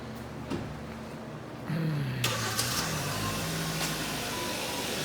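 A low motor hum starts up with a faint rising whine as a truck's power windows slide shut, over a steady background rumble.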